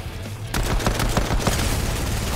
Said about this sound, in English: Why are they both shooting me?